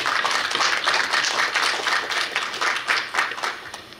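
Many hands clap in sustained, even applause greeting a student introduced at the KU-KIST graduate school entrance ceremony at Korea University, with no voices over it.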